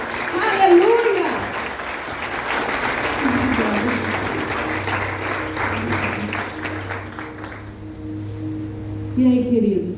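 Applause from a church congregation during a Portuguese-language sermon, a dense patter mixed with shouting voices and music underneath that drops away near the end.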